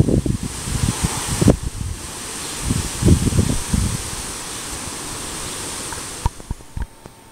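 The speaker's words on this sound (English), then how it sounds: "Suddenly we have a bit of wind." Outdoor wind gusts buffet the microphone in loud, uneven rumbling bursts that rise and fade, with a calmer stretch in the middle and a few light knocks near the end.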